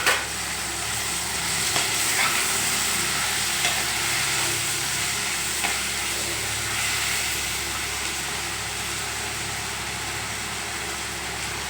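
Banana flower kootu with curry leaves and moong dal being stirred in a frying pan, a steady sizzle of frying running throughout with soft scraping stirs, close and continuous, no voices.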